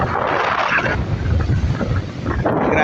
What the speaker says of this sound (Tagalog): saka malakas din yung hangin